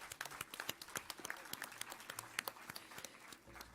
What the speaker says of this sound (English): So please give a huge round of applause.